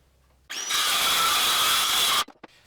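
A power tool cuts straight through pallet wood for drawer bottoms, starting abruptly and running as one steady, loud whine with a high tone for about two seconds before stopping sharply, followed by a few small knocks.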